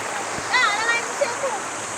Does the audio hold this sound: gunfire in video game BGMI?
no